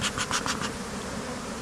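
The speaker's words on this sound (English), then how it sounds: "it's just a lot of bees in here" Bees in a hive used for almond pollination buzz in a dense, close drone, with a few sharper pulses early on before the hum settles steadily.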